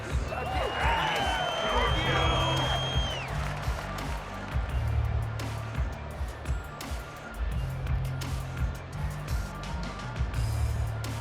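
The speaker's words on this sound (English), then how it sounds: "With a crowd here at MetLife Stadium in full roar." Stadium crowd at MetLife Stadium in the Madden NFL 24 video game, a sustained broad roar with cheering, mixed under steady commentary speech throughout.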